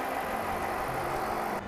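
Hemi V8 in a 2013 Chrysler 300S idling steadily with a smooth, even low hum and rumble, close and continuous, cutting off abruptly at the end.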